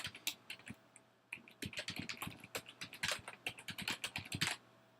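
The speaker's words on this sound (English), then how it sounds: "go ahead and type in your host name, type in your username" Quick, light clicks of a computer keyboard as a host name and username go into an SSH client, coming in short irregular bursts with a brief pause, close and clear.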